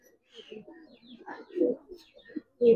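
A giribaz pigeon coos in soft, broken bursts close by, quiet and intermittent with brief pauses between phrases.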